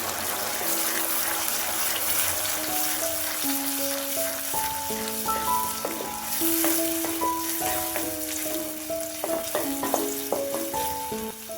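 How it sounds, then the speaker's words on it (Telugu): Ground spice paste frying in a pan for a curry, a steady close sizzle with occasional stirring, while tonal music runs over it throughout. "ఇప్పుడు గ్రైండ్ చేసి పెట్టుకున్న పేస్ట్ మొత్తం వేసుకొని 1 నిమిషం పాటు బాగా ఫ్రై చేసుకోవాలి."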